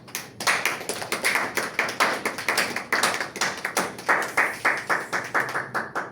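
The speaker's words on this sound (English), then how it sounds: "give yourself a clap" Audience at a leadership workshop clapping in a steady, even rhythm, crisp repeated claps close by with no talking.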